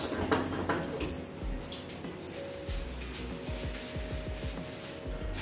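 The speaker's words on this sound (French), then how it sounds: "Donc voilà, je rince vraiment vite fait." Shower water running steadily over afro, curly hair during a rinse, a continuous close hiss of spray with splashing and dripping, alone without talk.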